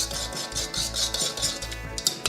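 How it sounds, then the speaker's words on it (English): Dry seasonings whisked into a jerky marinade in a bowl: rapid rhythmic scraping swishes of the whisk, repeating in quick bursts close up with no talking. "I'll whisk it again"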